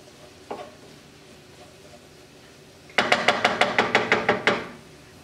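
Chopped basil being stirred into cooked hamburger and onions: a quiet stretch and one knock, then a quick rhythmic series of about ten sharp utensil taps against the pan, close and loud, with no talk.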